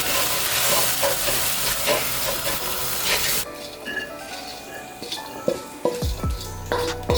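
Rice and coriander heat in a sizzling pan while being stirred, a steady hiss of frying that suddenly drops away, followed by a few sharp scrapes and knocks of a utensil against the pan.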